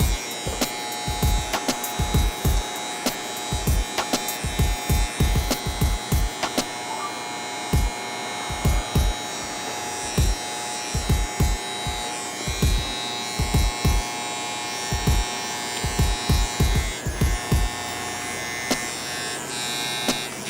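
Andis hair clippers with the guard removed and the blade lever open to the last notch, buzzing through hair during a taper haircut; a continuous close motor hum broken by frequent short rhythmic strokes against the scalp.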